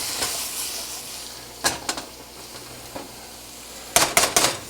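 Bacon pieces frying in a pan, a steady sizzling hiss underneath while a utensil stirs and scrapes the pan in a few short clattering bursts, close up and with no voices.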